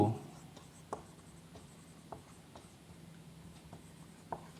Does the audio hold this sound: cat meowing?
no